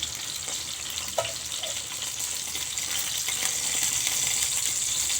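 Brinjal roasting in a pan over a medium gas flame gives a steady, soft sizzle, with a few light clinks and scrapes as pieces are turned; frying hiss grows slightly louder toward the end.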